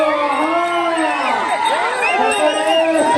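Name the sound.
crowd whistling and shouting at a bullock cart race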